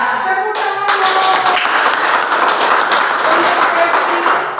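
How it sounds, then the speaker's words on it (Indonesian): A classroom group claps hands for a student, dense, continuous applause close by that swells after a brief start and holds steady for several seconds. "Tepuk tangan dong."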